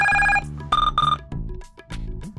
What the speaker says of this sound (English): Touch camera up and down to select one of 16 ringtones.